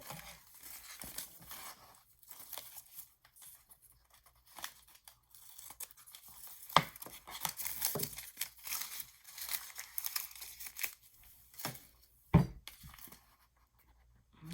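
Cardstock being trimmed with scissors for a junk journal pocket page, a run of close crinkling, snipping and paper-handling noises with a couple of sharper clacks, no talking.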